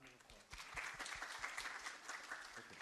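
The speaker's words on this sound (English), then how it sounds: "Round of applause." Conference audience at a session gives a round of applause, a dense burst of clapping starting abruptly and continuing steadily at moderate distance, with a few murmured voices underneath.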